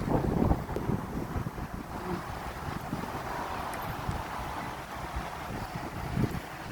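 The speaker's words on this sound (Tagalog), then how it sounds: "Oh, lakas ng hangin." Steady, roaring wind buffets the microphone throughout, with broadband rumble and gusty swells, no voices.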